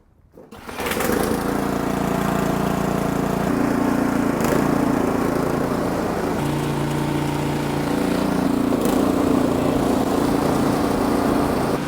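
An Ariens snowblower with a cast iron auger gear case starts up after a brief quiet moment, then runs loud and steady nearby with a constant engine drone.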